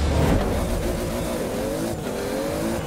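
A Toyota Supra accelerates hard in Forza, its engine note climbing steadily with faint tire squeal at the start, close and loud, no voices over it.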